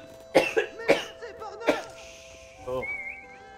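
A man coughs several times in sharp, close bursts, followed by a throat-clearing sound, over faint game sounds from an Age of Empires 4 match.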